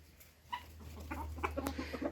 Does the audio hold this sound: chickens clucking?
yes